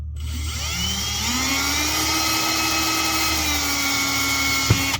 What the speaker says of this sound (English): Drill through it until it breaks free and then stop.